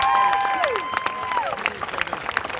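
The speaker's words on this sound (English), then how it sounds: "so another hand clap" Scattered hand claps and crowd cheers at an outdoor peaceful protest in Jackson, with tonal whistles or cries sliding over the noise; moderately loud, with voices mixed in.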